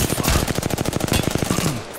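Rapid automatic gunfire in a video game, a fast even burst of sharp shots, about a dozen per second, loud and close, trailing off at the end, no talk.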